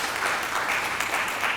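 An audience at a university media and politics forum applauds, a brisk, even patter of many hands clapping continuously throughout, moderately close and fairly loud.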